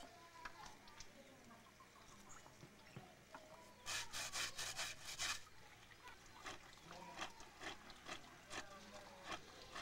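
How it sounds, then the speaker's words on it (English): Laundry is rubbed and scrubbed with soap by hand on a corrugated cement basin, giving repeated close rasping strokes, with faint talk and birds in the background. "she's rubbing and scrubbing to get the dirt out with soap by hand"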